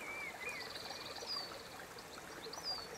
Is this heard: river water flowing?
yes